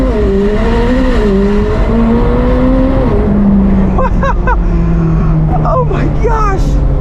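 A 2022 McLaren 765LT Spider launches with launch control at full throttle; the engine roars with a steadily climbing pitch, then drops and climbs again through rapid gear shifts, loud and close.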